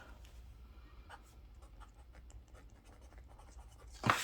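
A pen scratches across the pages of a paper planner in short, quiet strokes close by, followed by a brief louder knock or rustle at the end.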